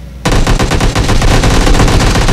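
Rapid automatic gunfire in the mobile battle royale game PUBG Mobile, a loud sustained burst of evenly spaced shots that starts suddenly after a brief quiet moment and continues without pause.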